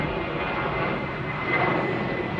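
An airplane passes overhead on its approach route near a camper site by Düsseldorf, giving a steady, broad, moderately loud engine rumble with no pauses.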